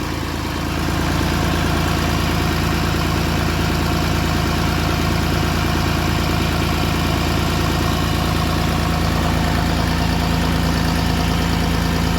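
A 1988 Massey Ferguson 240 tractor's diesel engine, freshly rebuilt, idles loudly and steadily close by, a constant low rumbling chug with a fast regular knock throughout.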